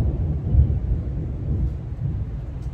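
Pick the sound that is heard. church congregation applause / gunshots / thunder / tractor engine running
thunder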